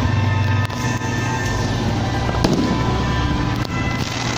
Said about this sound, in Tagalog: Nanonood naman kami ng fireworks.